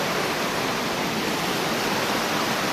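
Water rushes over a waterfall into a river near the town of Guatapé, a dense, steady, broadband roar that is loud and unbroken throughout, with no voices.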